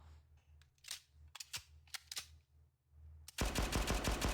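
Gunfire in the Blue Archive video game: a few light clicks and sharp taps, then a sudden loud burst of rapid automatic shots that continues to the end.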